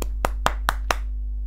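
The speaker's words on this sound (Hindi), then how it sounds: "तालियां बजाओ।" Five sharp hand claps in an even, quick rhythm, close and clear over a low steady hum.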